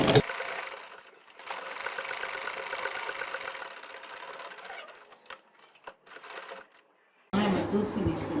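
A sewing machine runs steadily for several seconds while stitching a dori chain design onto a sleeve, then slows and stops in short bursts; after a brief pause someone speaks.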